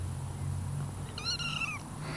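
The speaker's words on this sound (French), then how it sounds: "J'ai un autre minou sur moi, il est comme dans mon dos" A kitten gives a single short, high meow partway through, faint against a quiet room hum, with no talking.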